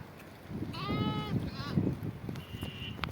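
A sheep bleats twice in quick succession, close and clear, over a low background murmur.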